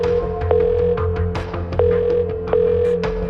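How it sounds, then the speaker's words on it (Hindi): A telephone rings repeatedly in a steady tonal pattern, with each ring starting sharply and several in a row, over a low sustained background hum. "लगातार कॉल करने पर भी जेनिफर ने फोन को नहीं उठाया।"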